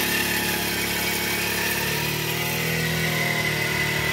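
A tractor engine runs steadily throughout at close range, a continuous loud mechanical drone with a low rumble and no talk over it.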